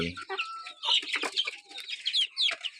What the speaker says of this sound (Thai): แล้วก็มาดูไก่นี่ครับ ไก่ สามตัวนี่ที่พี่ชัดชัย